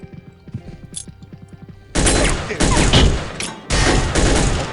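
Grenades go off in Soldier of Fortune 2 in a wine-cellar setting, a loud run of blasts and crashes starting about two seconds in and rumbling on without a break, after quieter clicks and thuds.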